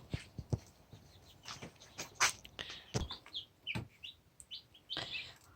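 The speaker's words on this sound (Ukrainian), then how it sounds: "А ось це виліз другий виводок в мене курчат." High, thin peeping calls from several small chicks, irregular and close, with a few louder cheeps and soft rustling in between.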